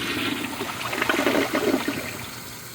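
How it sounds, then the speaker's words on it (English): A Foremost Eco To Go toilet from 2020 flushes, giving a close, rushing swirl of water that swells in the middle and then eases into a trickle. "let's give it a flush"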